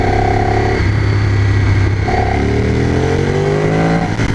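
A Ducati motorcycle engine revving hard on a test ride, loud and close, its pitch climbing and dropping through gear changes in a continuous throaty roar.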